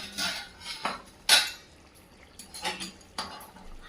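Kadhai paneer stirred in a pan with a metal spoon, giving several separate clinks and scrapes against the pan, some sharp and bright, spaced unevenly through a short, close-up stretch.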